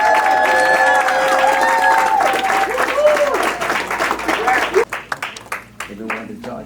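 An audience at a Northwest Suburban college graduation claps for the graduates, the applause swelling from beneath a tonal, voice-like sound into scattered, uneven clapping that thins out toward the end.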